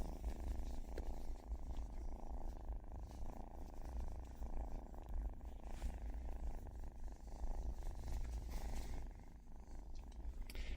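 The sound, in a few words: kitten purring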